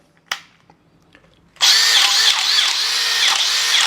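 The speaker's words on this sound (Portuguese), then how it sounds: "quando você pega uma parafusadeira furadeira bruta dessa" A faint click and some quiet rustling, then a heavy-duty drill-driver whirs to life at full speed and runs loud and steady to the end.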